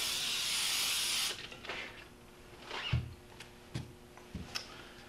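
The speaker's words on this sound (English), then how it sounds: "I like to use Baker's Joy. Just coat your pan on all sides and in the bottom really well." Baker's Joy baking spray is sprayed onto a cake pan in a kitchen for holiday gingerbread: a steady, close aerosol hiss lasting about a second, followed by quiet clicks and taps.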